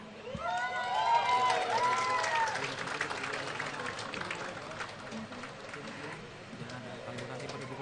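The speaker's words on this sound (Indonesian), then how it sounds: "silakan diberikan tepuk tangan" An audience at an Independence Day ceremony applauds a best traditional costume winner, with sustained clapping and cheering from a crowd that slowly tapers, while a voice over a loudspeaker talks across the first seconds.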